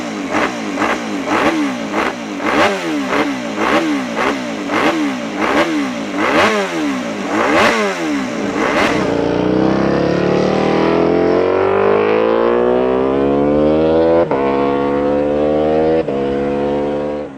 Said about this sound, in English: Now let's give that Honda RC211V a listen.